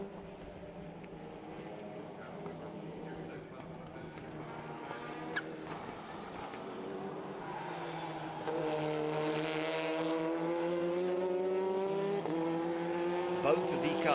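TCR touring race cars, a Hyundai Elantra and an Audi RS3, racing at Oschersleben, engines rising and falling in pitch as they pass, then growing louder and closer under a commentator talking throughout.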